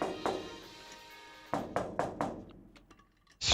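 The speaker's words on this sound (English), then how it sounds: "She was still banging on the outside of the door." Someone pounds on the metal door of a shipping container in a visual novel game: a few heavy thuds, then a tight cluster of hollow bangs, fading off before one final loud hit.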